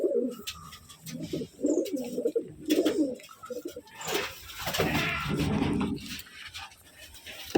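Pigeons kept confined in a loft coo in repeated throaty phrases, several birds overlapping near the mic, with some background rustle and voices.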